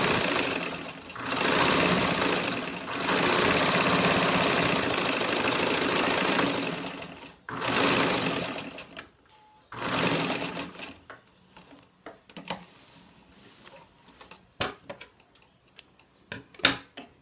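A sewing machine runs in loud rapid mechanical bursts, stitching in several stretches with pauses between, then quieter scattered clicks and handling noises toward the end.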